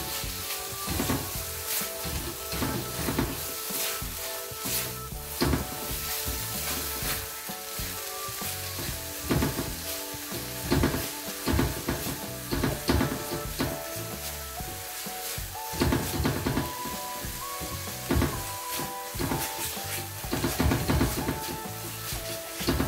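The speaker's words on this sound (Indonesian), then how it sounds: "biarkan gulanya mengkaramel di sana. Terus ini kita aduk bareng ya." Sugar caramelizing in a pan for nastar filling, a steady loud sizzle with constant scraping and stirring strokes of a utensil against the pan, continuous throughout.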